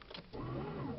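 A Mitsubishi Pajero's starter cranks the engine in -40 degree frost, a short muffled start followed by a sustained, laboured whirring grind that does not catch, close and fairly quiet.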